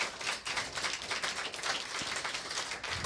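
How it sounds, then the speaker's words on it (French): Applause from a small live audience at a piano solo concert in a Paris jazz club, steady dense clapping that carries on evenly for a few seconds at moderate volume. "que nous leur réservions un petit applaudissement"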